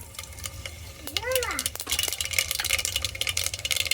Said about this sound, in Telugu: తాలింపు గింజలు వేగుతున్నాయి.